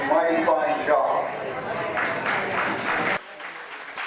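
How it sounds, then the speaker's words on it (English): A crowd applauds at a county fair, with moderately loud clapping that runs for about three seconds and then drops away abruptly to quieter background. "There's some applause for everybody that helps contribute to this great fair."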